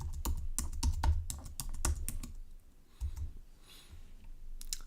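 Fingers type a password on a computer keyboard in a quick, close, steady run of clacking keystrokes, pausing briefly before a few more presses, with no talk.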